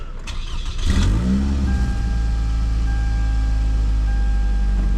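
A used car with 187,000 miles cranks and catches, then the engine flares and settles into a loud, rough idle with a deep exhaust drone, close by and steady to the end.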